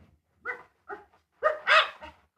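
A dog whimpers and yips in short bursts, three or four close whiny cries with a louder pair near the end, amid quiet pauses in a radio-drama setting.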